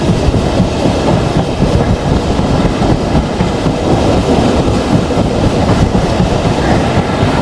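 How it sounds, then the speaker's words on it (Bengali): The Mongla Commuter train runs through Bhaga railway station with a loud, steady rumble and a continuous rhythmic clickety-clack of wheels on rails throughout, and no voices. "Mongla commutator through pass by Bhaga railway station"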